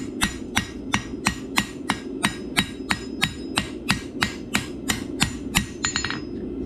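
A hammer strikes a steel slick on an anvil while forging a taper, ringing out in a steady, even rhythm of roughly fifteen sharp metallic blows, close and loud.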